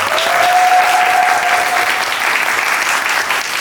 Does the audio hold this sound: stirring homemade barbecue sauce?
no